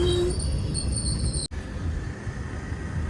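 The Kacheguda to Nagercoil express 16353 rolls into a station platform with a steady low rumble and high metallic wheel squeal early on, then a sudden break before the rumble resumes more quietly, no voices.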